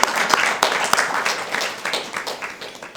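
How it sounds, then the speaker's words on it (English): Close, scattered clapping from a small audience at a history center event honoring the preservation of a sculpture. Sharp individual claps stand out over a softer patter that gradually thins out. "So a round of applause for everyone."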